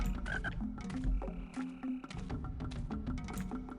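A frog in a video game croaks in a steady, dense series of loud, rapid calls for several seconds.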